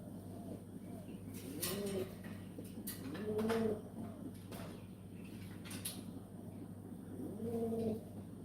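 Pigeons coo in a quiet setting, three separate soft, throaty coo phrases spaced a few seconds apart, fairly close, with faint background noise between them.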